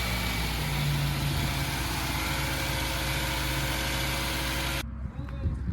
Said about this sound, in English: That engine actually sounds really good.